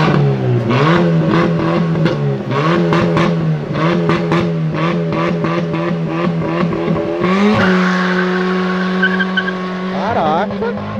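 A Ford Mustang in a race, its loud engine revving hard through rising gear pulls, then skidding sideways with squealing tires near the end, close and dominant, with people talking.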